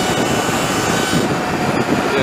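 A Sur Ron electric motorcycle with a 72V 51Ah battery rides at full throttle, a steady loud rush of wind and motor whine throughout, close to the rider.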